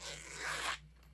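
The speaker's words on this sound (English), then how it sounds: "the zipper" A zipper on a knife sheath is pulled open in one quick, close, continuous rasping run lasting under a second, followed by quiet.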